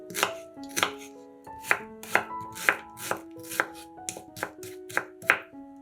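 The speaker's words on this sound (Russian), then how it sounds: "Одну луковицу нарезаем кубиками" Sharp knife strokes chop an onion into cubes on a cutting board, a regular series of close, crisp thuds with no voices.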